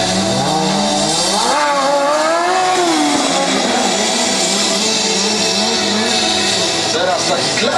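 A stunt motorcycle revs up and down loudly nearby for a wheelie, pitch rising and falling, while someone talks over it and crowd noise continues.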